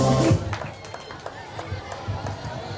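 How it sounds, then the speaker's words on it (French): Sparse, hesitant applause for a sub-prefect at a school excellence ceremony: a loud voice cuts off at the start, then scattered individual claps and light crowd murmur continue at a modest, uneven level. "Des applaudissements très timides pour tout un sous-préfet du grand arrondissement de Gonsamba 2e"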